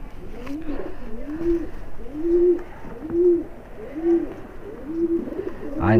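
High-flying pigeons in a loft in Bhopal coo in a repeating rhythm, about six rounded, throaty calls close to the microphone, with light background noise between them.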